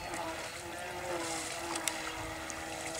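Remote-control Polaris sea plane running its motor at full throttle on water, a faint steady distant buzz with wind noise, heard alone without talk.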